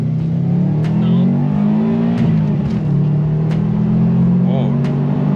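Subaru WRX engine held at steady high revs during a smoky launch, a loud continuous drone alone throughout with a few sharp clicks and knocks over it.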